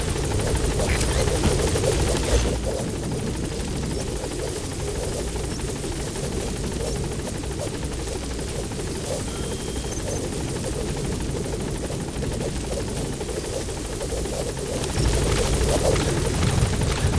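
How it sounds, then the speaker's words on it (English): Support helicopter arriving at a landing zone in Metal Gear Solid V, its rotor roar loud and continuous throughout, a dense steady thrumming drone that swells slightly at the start and end. "Support helicopter has arrived."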